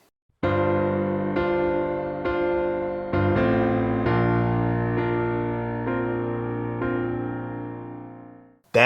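Piano plays chords in a hesitating, slightly delayed rhythm, a series of full sustained chords struck one after another and left ringing, alone and close.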